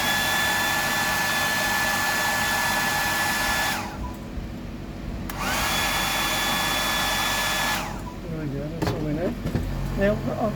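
A hair dryer blows paint dry on the gill of a deep-diving minnow fishing lure, a steady close whirring roar in two bursts separated by a brief pause, followed by someone talking.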